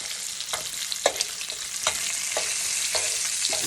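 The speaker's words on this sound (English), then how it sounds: "Moving the bacon around to get the hottest part of the pan on all of them." Bacon sizzles loudly in a hot pan for a biscuits and sausage gravy, with a steady hiss of frying fat broken by soft scrapes and knocks as the strips are pushed around.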